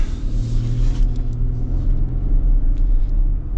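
Cabin sound from a 2026 Toyota Tundra TRD Off-Road under throttle. A loud, steady low engine and road rumble drones throughout with a faint tonal hum.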